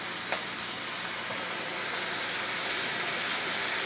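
Salmon steaming in a pan with grapeseed oil gives a continuous, even sizzling hiss that holds steady and loud throughout with no pauses.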